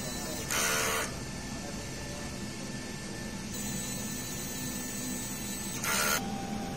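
A DTF printer's mechanical whir and hum runs steadily through a head-cleaning cycle, with two short bursts of louder rushing noise near the start and end.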